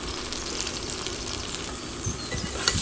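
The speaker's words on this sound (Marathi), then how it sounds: "तर मशरूम आमी परते मारया" Mushrooms frying in oil for a Konkani masala dish make a continuous close hiss and sizzle, with a few brief crackles near the end.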